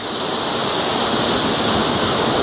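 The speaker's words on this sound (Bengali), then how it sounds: "এই দেখুন, এই আর একটা ওয়াটারফলস, জলের কি বেগ!" A roadside waterfall in the hills on the way to Pelling pours with fast, rushing water, a loud, continuous, close roar with no break or other sound.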